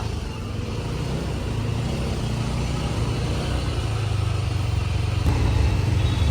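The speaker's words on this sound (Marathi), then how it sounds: "दिल्ली का ट्रॅफिक बाबू आया." Continuous rumbling Delhi street traffic with passing engines and vehicles, a steady road roar that swells slightly toward the end.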